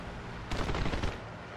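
A quick burst of rapid gunfire in War Thunder lasting about half a second, loud and sharp against a steady background hum.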